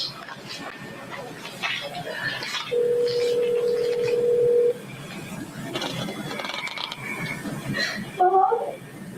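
A telephone keypad gives off a long, steady tone followed by a quick burst of short dialing beeps near the end, while voices talk faintly underneath.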